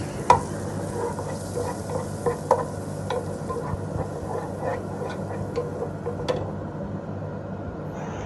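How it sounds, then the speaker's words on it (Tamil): Ginger and garlic frying in melted butter for a vegetable cheese pasta, a steady soft sizzle with scattered stirring clicks and light utensil taps throughout, no voices. "பட்டர் நல்லா மெல்ட் ஆனதும் கட் பண்ணி வச்ச இஞ்சி பூண்டு சேர்த்துக்கொள்ளலாம்."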